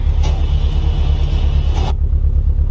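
A 2016 Porsche 718 Boxster S engine in Euro Truck Simulator 2 gives a loud, steady low rumble that drones without pause for a few seconds, with no one talking.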